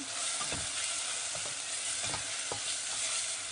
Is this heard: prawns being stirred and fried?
yes